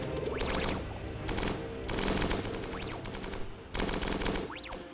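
Repeated bursts of gunshots in the video game Starbound, rapid rattling volleys with short gaps and sweeping electronic tones between them, moderately loud with no speech.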